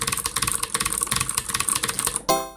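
Fast, crisp keystrokes on a computer keyboard with new switches clatter in a dense, uneven rhythm, close and loud, ending with a sharper click.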